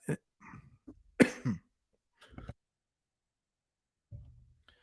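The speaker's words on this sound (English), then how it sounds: "hit the cough button so I could really cough those allergies out" Several harsh allergy coughs and throat clearings come in short, irregular bursts separated by silence, close to the microphone.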